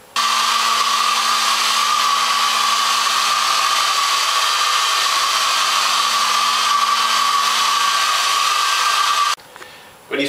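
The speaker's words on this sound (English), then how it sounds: "Put your hairdryer on its lowest heat setting." A hairdryer on its lowest heat setting, used to warm and smooth film secondary glazing on a window, blows in a steady, loud, even whir that holds for about nine seconds, then cuts out briefly before restarting.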